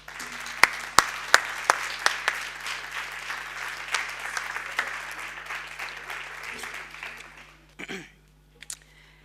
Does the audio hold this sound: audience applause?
yes